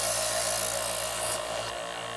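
Chef's Choice electric knife sharpener grinding a knife blade, a steady close, loud whir with a grinding hiss that shifts partway through as the pass changes.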